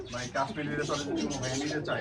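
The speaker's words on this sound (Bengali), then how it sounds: "নর কিন্তু নন স্টপ ডাকাটাই করতেছে খুব সুন্দর" A male Kashmiri racer pigeon coos without pause, a close, continuous throaty murmur running through the whole short clip.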